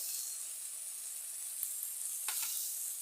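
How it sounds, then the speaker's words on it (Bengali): A masala frying in hot oil as dry chili powder is added, giving a steady, soft sizzle and hiss close up with a couple of faint stirring scrapes, and no voice over it. "আগের মশলাটা একটু কষে নিয়েছি এখন এটা দিয়ে শুকনো লঙ্কার গুঁড়ো দিয়ে দিচ্ছি"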